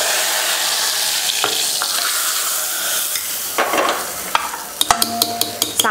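Hot mustard seed and curry leaf tempering poured into sambar, a broad sizzling hiss swelling for a few seconds, then fading into sharp metallic clinks of a pan or ladle tapping near the end.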